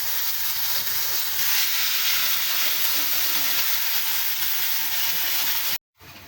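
Pointed gourd peel paste hitting a pan of hot oil gives a loud, steady hiss and sizzle that holds evenly, then drops out abruptly for a moment near the end.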